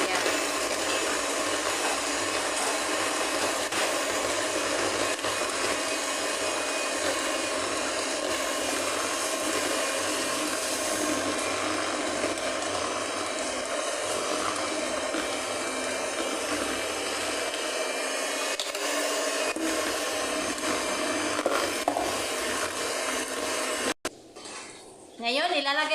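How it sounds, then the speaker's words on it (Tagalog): A cream cheese mixture for a strawberry cheesecake is mixed slowly by machine, giving a steady, close whirring drone that runs almost the whole time and cuts off abruptly near the end. "Dahan-dahan natin i-mix ang ating cream cheese mixture."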